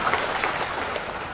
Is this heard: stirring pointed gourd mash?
no